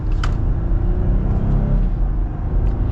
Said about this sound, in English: we're going in the manual mode for full-blown acceleration